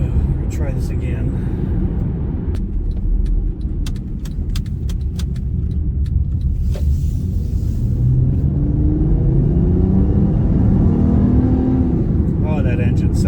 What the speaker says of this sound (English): that engine sounds so healthy